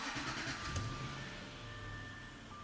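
A Jaguar XJ's engine cranks and catches near the start, then settles into a steady idle with a faint high-pitched electronic tone running alongside.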